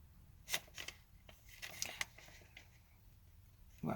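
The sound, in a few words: shuffling papers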